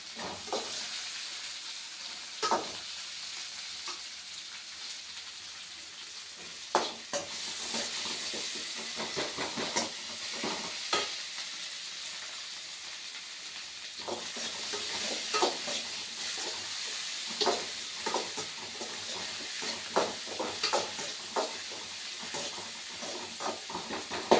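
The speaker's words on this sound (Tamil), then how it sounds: "கொஞ்சம் கருவேப்பிலை தழை போட்டுக்கலாம்." Curry leaves fry in hot oil alongside garlic and tomato, giving a steady sizzling hiss with scattered crackles and pops that grow busier toward the end, and no talk is heard.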